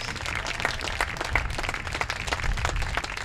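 Audience clapping for youth baseball award winners at an awards night, a moderate round of applause with individual claps standing out, fairly distant and steady.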